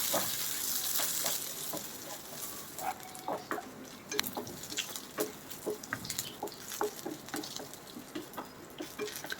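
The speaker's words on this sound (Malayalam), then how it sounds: "ഒരു കാൽ ടീസ്പൂൺ കടലപ്പരിപ്പും ഇതൊരു സ്പൂണ് ഉഴുന്നും പരിപ്പ് ഇട്ട് കൊടുക്കുക രണ്ട് വറ്റൽമുളകും ഇട്ട് നല്ലോണം ഒന്ന് വറുത്തെടുക്കാൻ നോക്കും" Chana dal, urad dal and two dried red chillies roast in a hot pan: a close, continuous oily sizzle broken by rhythmic scraping and stirring, with no talk.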